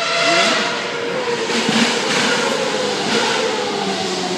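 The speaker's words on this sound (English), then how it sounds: "That is the McLaren MP426. Last year's McLaren car, by the way." A McLaren MP4-26 Formula One car engine drones steadily for several seconds at the Australian Grand Prix, its pitch wavering slightly as it passes, with a constant roar and no speech.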